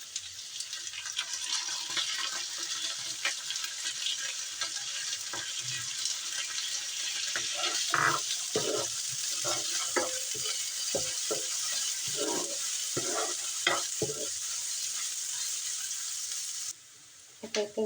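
Masoor lentils hitting a hot pan for dal with bottle gourd greens, a steady soft sizzle and hiss with scattered scraping and stirring clatter, fairly quiet and close.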